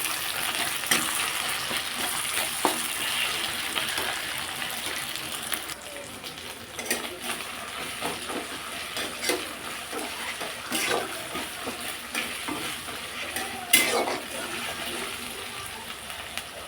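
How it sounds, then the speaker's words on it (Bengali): Chillies and tomatoes fry in a pan with ginger and garlic for lemon chicken curry, a steady close sizzle under repeated scraping stirs of a spoon through the soft masala, with no talking. "এর মধ্যে এবার আমি লঙ্কা, টমেটো দিয়ে দিলাম। এবার নাড়াবো।"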